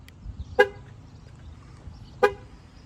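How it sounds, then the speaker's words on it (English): A 2023 Jeep Compass horn sounds two short, sharp toots about one and a half seconds apart after the lock button is pressed twice, with quiet outdoor background between. "It'll honk at you twice."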